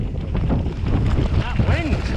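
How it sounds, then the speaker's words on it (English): Strong wind buffeting the microphone with loud, continuous rumbling gusts, close and heavy throughout, while a person talks underneath. "That wind!"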